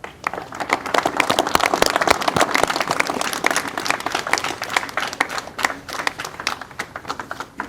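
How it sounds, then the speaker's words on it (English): Sustained round of applause at an Indian Navy marathon flag-in ceremony, many hands clapping steadily and briskly for several seconds, fairly close and dense, with no talk over it. "everybody deserves a big round of applause"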